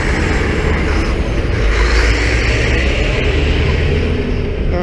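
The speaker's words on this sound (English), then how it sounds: "don't you love those double loaders, or whatever they're called, articulated trucks" An articulated truck, a double loader, rumbles past on a road in Cairns, Queensland, a loud, steady broadband roar with deep low-end drone holding for the full few seconds, close and continuous.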